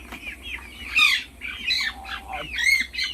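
Brahma chickens call from close by in short squawking and clucking bursts, several overlapping calls with brief pauses between, over a low background hum.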